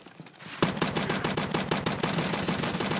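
Rapid automatic gunfire in the video game Escape from Tarkov, a dense burst of sharp cracks fired in quick succession for a few seconds after a brief quiet start.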